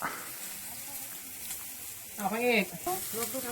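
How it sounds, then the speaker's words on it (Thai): Pork sizzles on a Thai mookata grill pan with a steady close hiss and crackle, while a voice speaks briefly over it. "หมูกระทะวันนี้ครับ"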